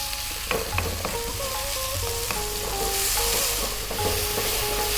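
Egg curry base frying hard in a pan over fairly high heat gives a steady, close sizzle with scattered clicks and light scraping from stirring, and no voices.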